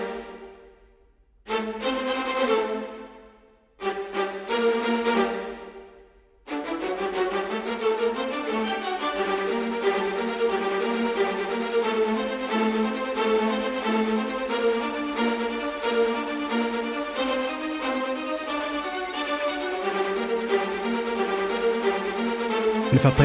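High strings rendered with MIDI orchestral sample libraries in a neoclassical trailer style: a few separate swelling chords, then a sustained, dense layered passage with moving notes, full and steady, with no voices.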